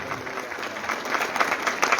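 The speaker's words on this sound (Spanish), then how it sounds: "Si hay gozo, hermanos míos, dale palmas para Dios" A church congregation in Andahuaylas, Peru claps steadily through the whole stretch, a dense, continuous wash of many hands at moderate loudness with a few slightly stronger swells.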